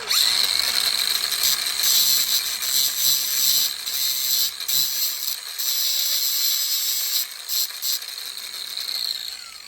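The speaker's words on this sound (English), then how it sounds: "I'm just gonna take this, grind" Rotary grinding tool cutting a small metal retention tang off a bulb, a steady high whining grind that carries through with slight dips, loud and close, with no talk.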